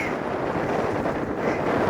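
Steady wind buffets the microphone on an exposed hilltop lookout at sunrise along a hiking track in Western Australia, a constant broadband roar that fills the whole moment without pause.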